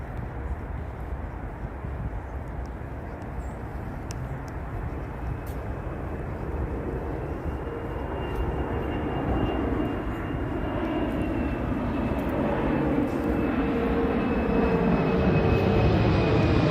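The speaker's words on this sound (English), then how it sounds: "I didn't think about the airplanes." A propeller or jet airplane roars overhead near Theodore Roosevelt Island, a steady loud rumble that slowly swells and builds over the whole stretch, with no talk.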